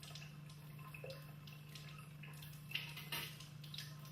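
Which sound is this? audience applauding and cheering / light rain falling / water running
water running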